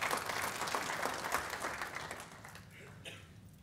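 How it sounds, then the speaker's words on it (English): An audience at a business update meeting breaks into dense applause that stays steady at first, then fades and thins toward the end. "So I reckon you give yourself a round of applause."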